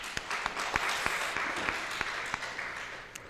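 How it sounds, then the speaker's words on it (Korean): A congregation applauds during a Sunday afternoon church service after a small-group hymn, steady clapping that holds for a few seconds and slowly thins. "구역 찬양 박수 한번 다시 드립시다"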